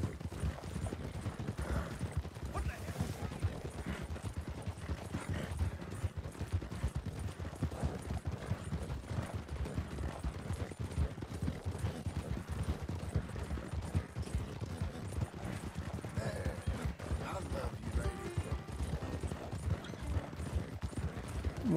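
A horse galloping in a long-distance race through high country in Red Dead Redemption 2, a steady, continuous rapid clip-clop of hooves at moderate volume with no talking.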